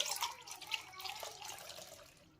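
Water is poured into a bowl of tamarind, giving a quiet, close splashing and trickling with a few drips that fade out after about two seconds.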